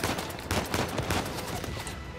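Gunfire in the video game Uncharted 4 rattles nonstop in a dense fusillade of overlapping shots, loud and close, running across the whole stretch without pause.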